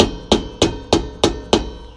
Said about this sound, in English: You use a soft hammer to get those all back in.